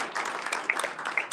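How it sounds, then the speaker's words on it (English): Founders at a Houston startup pitch event applaud a presenter, a short spell of scattered, light clapping at modest volume. "let's give a round of applause for Christine"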